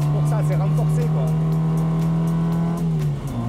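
A 1959 Austin Healey Sprite MkI with its engine tuned to 65 hp drones steadily from inside the car, the note dipping slightly near the end while people talk over it.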